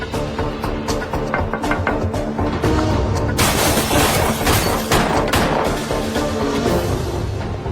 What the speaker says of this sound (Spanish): El testigo escucha los disparos.